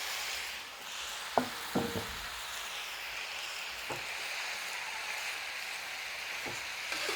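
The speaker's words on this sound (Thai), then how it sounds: "เราจะผัดกระหล่ำให้สลด" Shredded cabbage with sun-dried pork stir-fried in a pan, giving a soft steady sizzle with a few scraping clicks of the spatula, fairly quiet and without talk.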